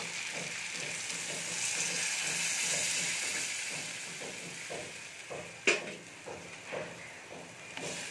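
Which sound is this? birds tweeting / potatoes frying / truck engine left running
potatoes frying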